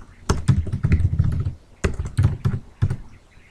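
Quick bursts of keystrokes on a computer keyboard as a name is typed into a search field, close and crisp, in two short flurries separated by a brief pause, with no talking.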